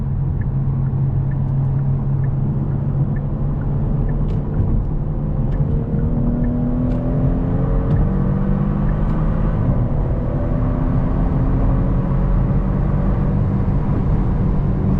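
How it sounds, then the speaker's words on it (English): A 2022 Genesis G70 V6 sports sedan drops a gear by paddle near redline and pulls hard, its engine rumbling with a rising, droning tone heard from inside the cabin over steady road noise. "No hesitation, gives me second gear, even though we were right at red line."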